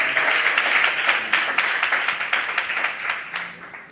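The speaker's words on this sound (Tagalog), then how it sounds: "tayo po ay pumalakpak muli sa mahal na Panginoon" A church congregation claps together in a brisk, fairly even rhythm of close, crisp claps that slowly fade over a few seconds.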